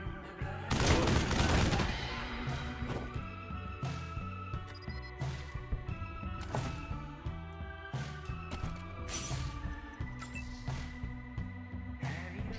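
Gunfire in combat in Wasteland 3 begins with a loud burst of rapid shots, then sharp single reports keep sounding over a looping game soundtrack.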